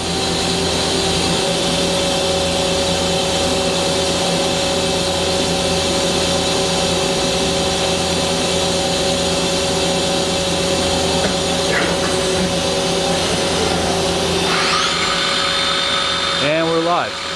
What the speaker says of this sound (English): we're going to index the turret and go to a live tool.